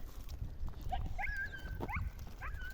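Tiger, a dog outdoors on a winter day, lets out a few faint, distant, high yelping barks after spotting a rabbit. The barks come in short, scattered bursts over low background rumble.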